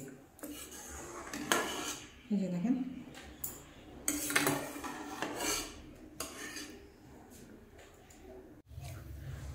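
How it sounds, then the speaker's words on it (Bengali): A spoon skims foam from boiling dal cooked with turmeric in a pot, scraping and clinking against the metal rim in irregular bursts, with a faint voice in the background. "এই যে ডালটার মধ্যে দেখেন কতগুলো ফেনা উঠেছে, সেগুলোকে আমি ফেলে দিচ্ছি উপর থেকে।"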